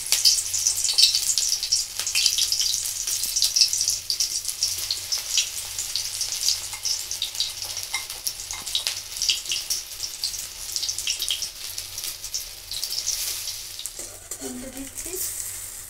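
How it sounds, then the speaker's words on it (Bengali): Methi leaf pakoras frying in hot oil, a steady close crackling sizzle throughout with a brief clink of utensils near the end, no talk. "বাকিগুলো আমি একইভাবে ভেজে নেব"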